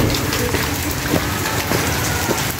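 Rain falling steadily outdoors in a residential estate neighbourhood in Mombasa, a constant broadband hiss with scattered drop patters throughout, no talking.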